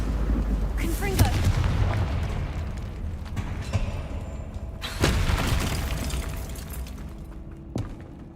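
Blasting-spell explosions go off in the video game Hogwarts Legacy, sharp booms at intervals over a constant low rumble and game noise, with a voice talking in between.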